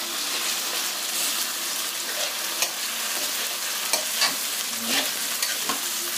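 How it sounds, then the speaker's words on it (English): Tomato mixture for ewa agoyin sauce frying in a pan, a loud, steady sizzle with intermittent scraping knocks as it is stirred together, close by and without speech. "So I put it in so it can fry. Right, so you can see, so we mix it all together."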